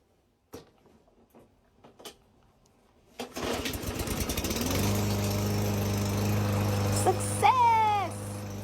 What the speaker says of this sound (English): You're creating a suction, forcing the gas into the engine to make the mower crank.